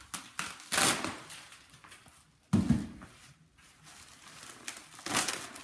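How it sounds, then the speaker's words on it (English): Plastic packaging crinkles and tears as framed wall art is unwrapped, with two loud rustling bursts separated by quieter handling noises, close up and with no talking. "We will unwrap it carefully."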